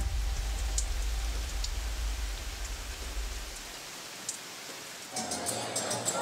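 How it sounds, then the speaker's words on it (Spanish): Rain falling outdoors near Niebla in the Valdivia area of Chile, a steady hiss of drops with a low rumble underneath, ending with a brief burst of other activity. "Oye, nos pilló la lluvia."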